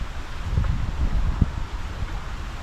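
Gusty wind buffets the microphone outdoors, a steady low rumble with a few stronger puffs, no voices.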